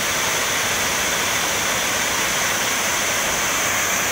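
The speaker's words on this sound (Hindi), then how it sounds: "हाँ जी, यहाँ से वाटरफॉल दिख रहा है नीचे" Bijakasha waterfall in Bastar, a dense, steady roar of rushing water that stays loud and even throughout with no voices over it.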